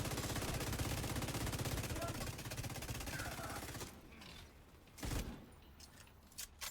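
Sustained automatic fire from a light machine gun in The Division 2 shooter game, a dense rapid rattle for several seconds that cuts off, followed by a sharp burst and a few scattered clicks.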